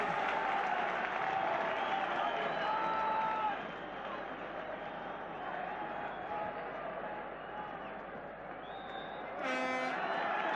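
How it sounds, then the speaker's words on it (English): Aberdeen supporters cheer and applaud in the stadium at half-time of a 1983 Cup Winners' Cup match against Bayern Munich, a broad sustained crowd roar with a commentator talking over it. "The Aberdeen supporters cheer their favourites off"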